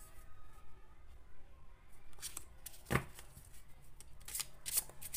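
Tarot cards are shuffled and handled for a draw, giving soft, close riffling and sharp flicking snaps in irregular bursts, with a quiet room beneath.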